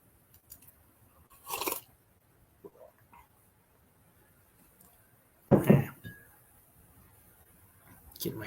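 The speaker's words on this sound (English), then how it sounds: "the microphone sound like it was slurping loud as fuck" Coffee is slurped close to a microphone in two or three short, loud, wet bursts separated by quiet stretches.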